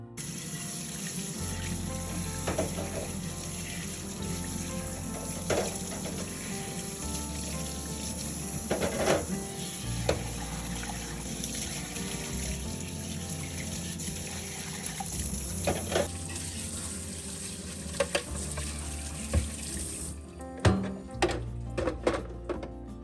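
Tap water runs into a sink while slow juicer parts are washed with dish soap and rinsed, steady flowing water broken by occasional knocks and clunks of plastic pieces, fairly close and without talk.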